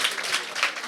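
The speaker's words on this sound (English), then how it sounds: "A round of applause." An audience breaks into applause, a brief burst of many hands clapping in close, uneven waves.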